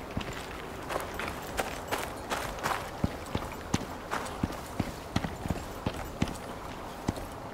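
Horse hooves clip-clopping at a steady trot in the survival game Icarus, a regular run of sharp, fairly close hoofbeats over a faint ambient bed.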